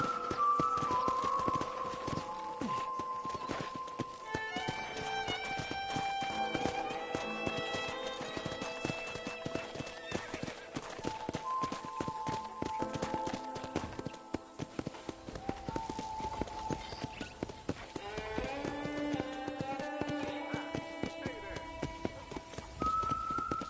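Steady hoof clip-clop of a horse being ridden around a ranch in Red Dead Redemption, continuous and rhythmic under a music score and spoken dialogue.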